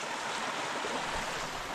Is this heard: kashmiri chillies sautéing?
no